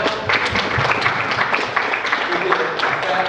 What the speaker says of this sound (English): let's give a round of applause to Mark Needle and our panel